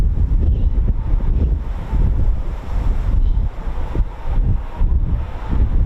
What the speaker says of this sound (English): Wind has certainly picked up